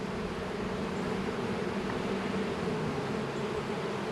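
Honey bees buzzing around an open hive during a late March inspection in an apiary, a dense, continuous drone that stays steady and close with no talk over it.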